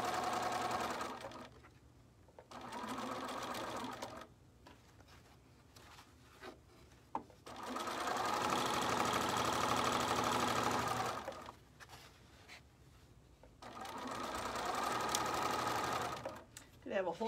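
A Bernina sewing machine set on a plastic table stitches in three long runs, a steady close whirring hum with short pauses between bursts, and a person talking now and then.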